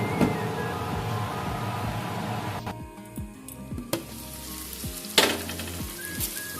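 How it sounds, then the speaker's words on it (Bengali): Ingredients for fried rice sizzle steadily in a hot pan, with several sharp scraping stirs of a utensil against the metal and a constant crackling hiss, close up and without talk. "আর একটু অল্প সময় আমি ভাজবো এটা"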